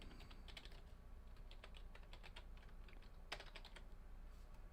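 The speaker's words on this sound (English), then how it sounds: "The keys are kind of tall, so it's very tactile whenever you're typing." Typing on a computer keyboard with tall, tactile keys, a steady run of crisp clicking keystrokes up close, with no talking.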